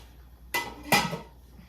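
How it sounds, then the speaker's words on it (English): A lid is set onto a pot of homemade vegetable soup, giving two quick metallic clanks about half a second apart, fairly close, with no talk. "So now Malik is going to put the top on."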